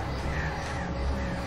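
Crows cawing in the Alan Wake video game, steady and fairly close over a continuous low rumble of game ambience, with no talk.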